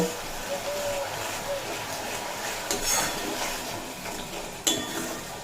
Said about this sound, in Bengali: এরপর এই সমস্ত মশলা খুব ভালোভাবে কষিয়ে নেব